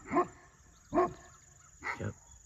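A livestock guardian dog barks three times at a coyote somewhere on a sheep farm, sharp moderately distant barks spaced about a second apart against a quiet background.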